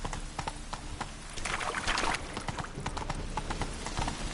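Horse hooves clip-clopping in The Witcher 3 video game, a steady trotting rhythm of close thuds over a continuous bed of game ambience and rustle.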